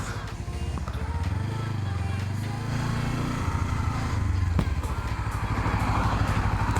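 A Kawasaki Z300 motorcycle accelerates on the road, its light engine note climbing in pitch through the gears, heard close from the rider's position with wind noise and no talking.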